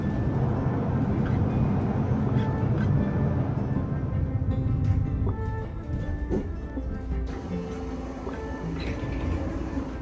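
Inside a nearly empty tram rolling along, a steady low rumble of wheels and motor fills the cabin, with faint clicks, rattles and brief tonal whines from the track and car body.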